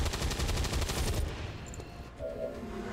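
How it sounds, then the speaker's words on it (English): Suppressing fire in the video game XCOM 2, a rapid loud burst of automatic gunfire that cuts off after about a second, leaving a fading echo and faint tones. "Suppressing fire on target!"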